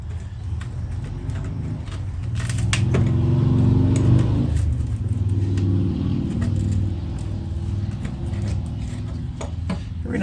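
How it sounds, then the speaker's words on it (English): A car engine rumbles past at close range, swelling to a peak and then easing off, with some light clicks and handling noises over the low drone. "Every now and again you get to hear some nice cars that drive by"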